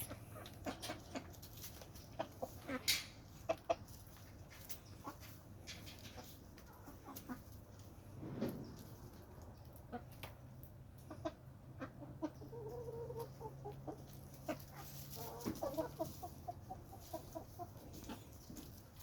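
Quiet, scattered clucks from Rhode Island Red hens, short and irregular over a soft outdoor background, with no talking.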